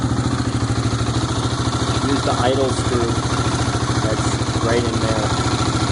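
A Yamaha WR250R fuel-injected motorcycle idles close by with a steady, even thumping beat, while someone talks over the engine.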